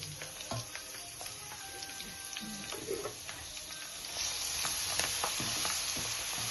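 Curry leaves and garlic sizzle and crackle in hot oil for an amla pickle, with close steady frying hiss and pops, plus a few stirring clinks. The hiss swells louder toward the end.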